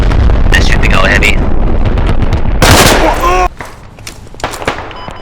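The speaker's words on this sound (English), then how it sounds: "They're shooting our heavy." Gunfire in a video game battle where an enemy anti-tank unit fires on a heavy, loud bursts and rapid shots packed closely together that drop to scattered quieter shots, with radio voices talking over them.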